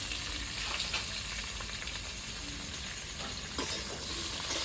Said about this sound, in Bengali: পুরো বেশি ভাজবো না আমি হালকা করে ভাজবো